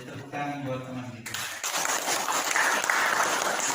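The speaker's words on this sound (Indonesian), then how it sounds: "Tepuk tangan buat teman kita." Classroom audience of junior high school students applauding a classmate, a steady burst of clapping starting after a brief stretch of speech and continuing loud and dense to the end.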